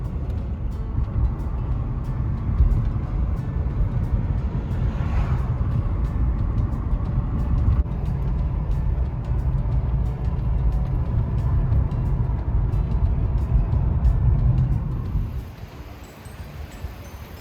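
A car driving through a leafy residential area of Cleveland gives a steady low engine and road rumble with faint ticking, holding even for about fifteen seconds before dropping away near the end, with no talking.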